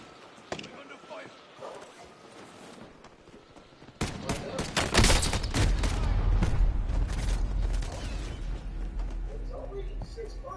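Warzone video game combat: a few isolated shots in a quiet stretch, then an abrupt heavy burst of rapid gunfire and rumbling blasts that continues loud and dense, with a voice speaking briefly over it.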